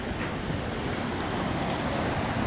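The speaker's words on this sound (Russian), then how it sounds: "А здесь океан." Ocean waves washing onto a Hawaiian shore, a continuous broadband rush of surf mixed with wind, steady and fairly loud with no voices.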